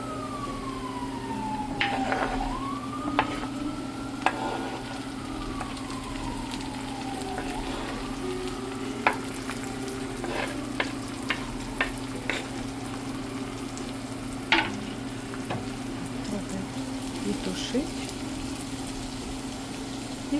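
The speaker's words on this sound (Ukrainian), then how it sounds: "Це у нас зажарка буде. Зажарка завжди придає смак. Кидаємо моркву." Carrots sizzle steadily in a hot pan, a constant crackling hiss with scattered sharper pops and a low hum in the background.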